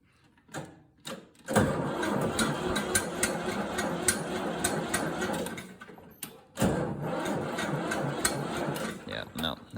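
A 1974 Ford 3000 tractor engine cranks over in a loud, sustained churning run. A brief stop follows, then a second long crank, with faint clicks around the edges.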